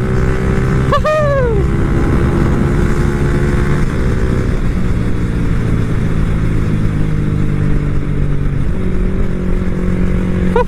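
Motorcycle fitted with an AQS quickshifter pro kit revving loudly and shifting up through the gears on the road, the engine note dropping at each quick upshift and climbing again in a continuous close onboard roar.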